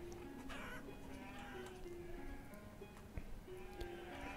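Chickens in the village-building video game Banished cluck faintly and intermittently over a steady ambient bed of other farm animal sounds.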